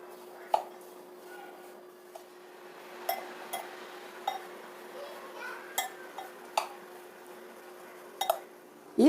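A spoon mixes a poha and semolina mixture in a bowl, giving faint, scattered light clinks and scrapes at an irregular pace over a quiet background hum.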